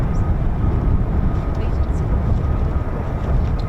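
US Air Force F-35A fighter jets departing RAF Lakenheath make a loud, continuous broadband roar with a deep rumble, and voices talk over it.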